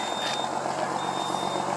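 A Mascarello Gran Via coach bus pulls out, its high reversing beeps sounding over a constant engine rumble.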